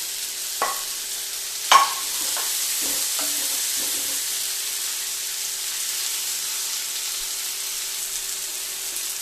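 Ginger and garlic go into a hot pan for chilly soya, with a few clacks and taps as they land and are stirred, then a steady soft sizzle of frying that continues alone.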